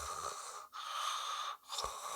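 A voice imitates light snoring with soft, breathy, rasping inhales, two long drawn-out breaths separated by brief pauses, close and quiet.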